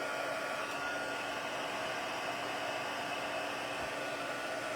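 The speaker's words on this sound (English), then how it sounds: "take the heat embossing tool that sounds just like a hair dryer" A heat embossing tool blows hot air in a continuous, even rush like a hair dryer, steady and close, with no talking.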